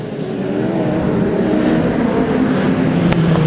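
A midget race car with an Esslinger engine hums steadily at a New Zealand midget championship meeting at Ruapuna Park, a sustained engine drone at moderate distance, alone without voices.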